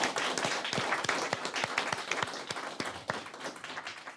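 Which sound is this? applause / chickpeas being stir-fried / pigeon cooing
applause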